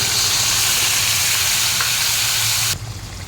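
A tomato, onion, garlic and ginger puree sautéing in a pan for misal, giving a loud, dense, close sizzle that cuts off abruptly near the end, leaving quieter background.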